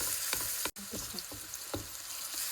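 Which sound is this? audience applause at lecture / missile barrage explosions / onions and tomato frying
onions and tomato frying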